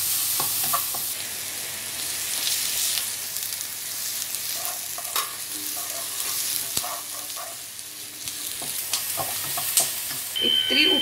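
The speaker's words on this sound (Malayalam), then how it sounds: "വെളുത്തുള്ളി ഇട്ട് കൊടുക്കാം, എന്നിട്ടത് ഒരു സാധാ ബ്രൗൺ കളർ ആവുന്ന വരെ നമ്മൾ വരട്ടിക്കൊണ്ടിരിക്കുക" Garlic stir-fries in oil for egg fried rice, a continuous hissing sizzle with scattered clinks and scrapes of a utensil against the pan, close and fairly loud.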